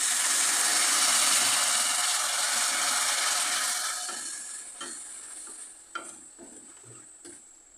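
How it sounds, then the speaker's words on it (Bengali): Melting sugar with a little water stirred in a pan: a bright, hissing sizzle that slowly fades, followed by sparse, quiet scraping strokes of the spoon against the pan. "চিনিটা গলে যেতে সময় লাগবে এগুলো খুব ভালোভাবে আমি নেড়ে চেড়ে নেব এর মধ্যে একটু জল দেবো"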